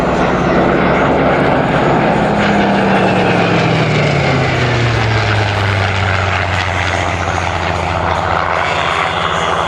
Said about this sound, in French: le bruit du moteur Griffon, avec Tristan, Fighter Collection.